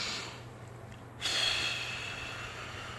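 A person takes a slow audible breath, a soft airy inhale swelling into a louder exhale partway through, close and alone against a faint steady hum.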